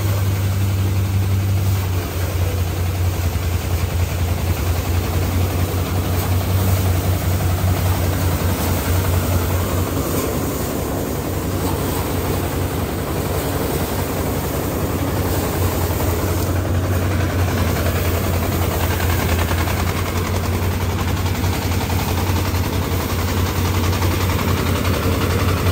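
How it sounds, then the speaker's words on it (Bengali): An engine-driven auto paddy threshing machine, fitted with a large horsepower engine, threshes wet paddy with a steady, loud, unbroken mechanical roar and deep low hum that holds close and constant throughout, with no voices. "দেখুন আপনার ভিজা ধানগুলো মারাই করতেছে"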